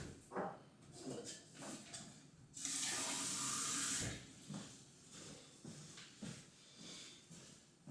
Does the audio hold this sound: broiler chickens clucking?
no